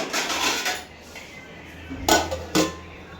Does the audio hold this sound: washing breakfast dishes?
yes